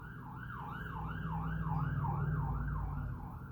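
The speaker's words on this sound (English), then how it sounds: "sirens going by." Emergency vehicle siren wailing outdoors, its rising and falling tone cycling steadily, fairly distant and passing by with a low rumble of traffic beneath.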